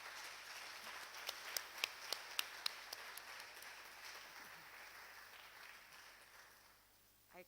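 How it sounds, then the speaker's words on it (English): Lecture hall audience applauding Professor Pong at the JB Danquah Memorial Lectures, a soft, sustained patter of clapping with a few sharper nearby claps, fading out toward the end. "Can we give him another round of applause, please?"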